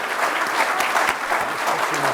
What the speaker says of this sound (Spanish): les pedimos un fuerte aplauso